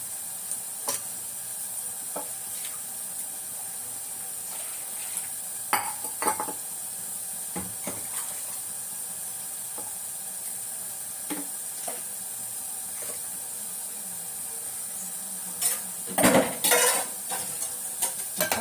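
Steady sizzling hiss of food frying in a pan, with occasional scraping and clinking of a utensil stirring against metal.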